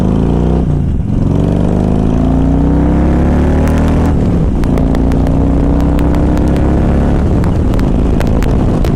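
Modern Harley-Davidson touring motorcycle idling and revving, a loud, steady low rumble with a throttle swell near the start, running continuously at close range.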